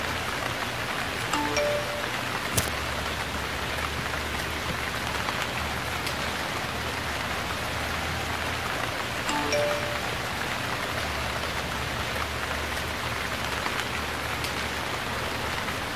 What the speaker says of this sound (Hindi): आपको बारिश नहीं पसंद?